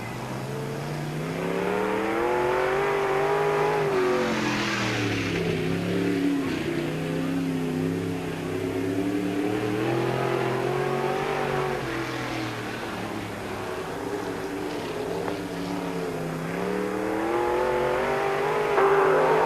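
A race car on a qualifying lap at Peoria Speedway, an oval track, roars loudly at speed, its engine pitch rising and falling through the turns in repeated sweeps, close and continuous.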